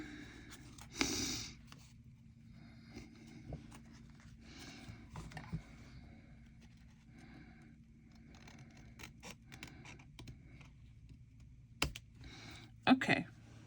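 A paper tag shape for a junk journal with boho images is cut out by hand, producing soft, irregular snipping and clicking that runs steadily at close range, with quiet background speech in places.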